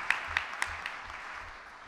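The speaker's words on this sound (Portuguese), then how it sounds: "Uma salva de palmas à resistência de vocês." A small crowd at a public hearing claps briefly and fairly faintly, a few sharp early claps thinning into soft scattered applause.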